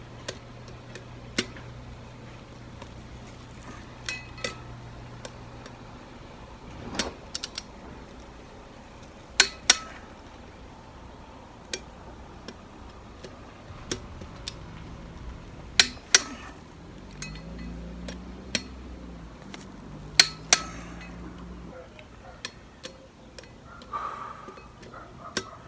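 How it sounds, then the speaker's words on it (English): Bolts being tightened with a torque wrench in a crisscross pattern during maintenance on a 1994 Ford F53, heard as sparse sharp metallic clicks and clinks spread over a quiet background. "I'm supposed to go in a crisscross manner tightening these down so that they all end up being the same"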